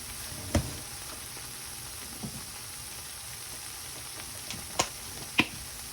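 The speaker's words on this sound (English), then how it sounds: "So I'm just going to shake this up and saute it." Seasonings for arroz con gandules sauté quietly in a pot, a faint steady sizzle broken by a few soft clicks and taps of utensils.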